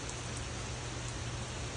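Steady, dense patter of rain falling on a surface, constant and even throughout with no breaks.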